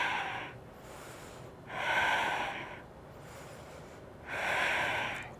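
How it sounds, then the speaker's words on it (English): Heavy, deliberate breathing during a yoga flow exercise, with two long, forceful airy breaths, each swelling and then fading, separated by quieter gaps, close to the microphone and with no talk. "Breathing."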